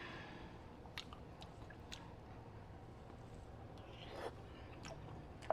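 Someone chews a bite of slightly cold, cheesy macaroni and cheese, giving soft, wet squishing and smacking sounds close up with scattered clicks, over a low steady background hum.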